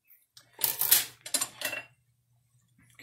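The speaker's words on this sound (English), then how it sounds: "So now it's time to put in our mushrooms. My big food scraper." Mushrooms are scraped off a board into a pan with a big food scraper, giving a few close bursts of scraping and clattering for about a second and a half, then near silence with a low steady hum.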